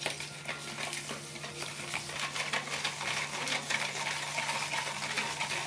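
Sugar is stirred into biscuit batter made with semolina and flour, giving a continuous close scraping and sloshing with no talk.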